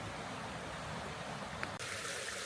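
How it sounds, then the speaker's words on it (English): A small mountain stream tumbling along Little Dudley toward Bell Branch on a January day gives off a soft, steady, faint rush of water heard alone. "a few pretty little streams and some tumbling of those streams"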